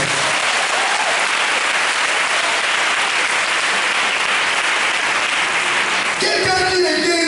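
Sustained applause and cheering from a church congregation at a healing Mass for the sick, dense and steady throughout, ending with a voice rising over the clapping near the end.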